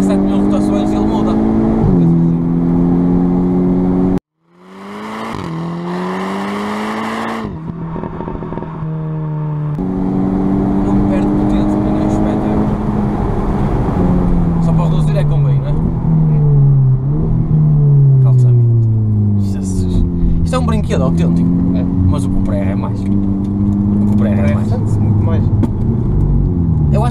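Volkswagen Golf R engine, over 300 hp, pulling hard under acceleration and revving toward 7,000 rpm with automatic upshifts, loud and close from inside the car, with a brief cut near five seconds and a person talking over it.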